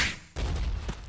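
Rifle gunfire from the RELL Seas video game, a loud burst of shots with a sharp attack after a brief quieter lead-in, sustained and near.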